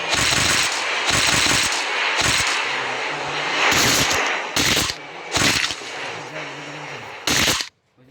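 Rapid bursts of automatic gunfire from a shooting video game, several loud broadband volleys of varying length separated by short pauses, with low game rumble and faint background voices.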